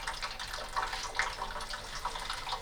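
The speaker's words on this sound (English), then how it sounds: "So it takes a little bit of water pressure to get all the water through there." Water gushes steadily through sand-clogged passageways of a soil erosion model with a silt fence, a continuous close trickling and rushing with small bubbling bursts throughout.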